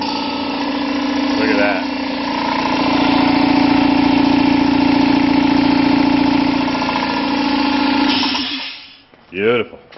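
An engine in a warehouse is cranked up and settles into a steady, loud idle that drones for several seconds before cutting out, followed by a brief spoken remark.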